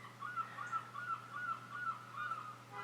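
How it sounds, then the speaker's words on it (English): Seagulls call repeatedly from outside an open window, a steady run of faint, high cries layered over a constant low indoor hum. "Sorry if you can hear the seagulls"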